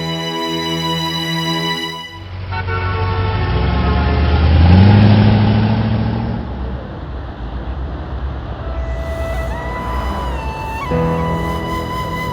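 A car engine hums steadily while driving, swelling louder midway and easing off again, with a low rumbling tone and no talk over it.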